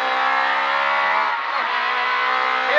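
A rally car on a gravel stage of the Galway Summer Rally drones loudly and steadily through a hairpin left taken with the handbrake, its engine note holding fairly even throughout.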